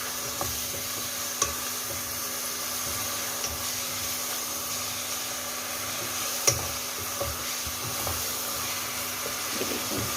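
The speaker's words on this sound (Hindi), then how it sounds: "मीडियम फ्लेम को हम थोड़ा तेज कर देंगे, ताकि हमारा गोश्त अच्छी तरीके से फ्राई हो जाए।" Gosht for Kabuli pulao frying in a pan over a raised flame, a steady close sizzle with a constant hum beneath and occasional sharp clinks of stirring.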